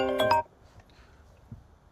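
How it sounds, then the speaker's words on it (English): A mobile phone ringtone sounds a short melodic burst at close range, then cuts off into quiet room noise with faint small movements. "That was my phone, so someone's ringing me."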